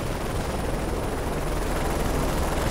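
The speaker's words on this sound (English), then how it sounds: "These helicopters can take a lot of bullets, can't they?" A helicopter in the video game Call of Duty: Modern Warfare 3 roars loud and close. The rotor and engine noise is a dense, unbroken wash that fills the brief stretch.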